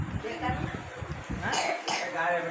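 A person coughs a few times amid ongoing talking, the coughs blending with nearby voices.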